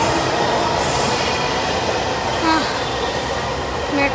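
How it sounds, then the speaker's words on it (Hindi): Metro train pulling out of a station, a continuous loud rumble of wheels and carriages with faint squeals, heard close from the platform. "मेट्रो चली गई"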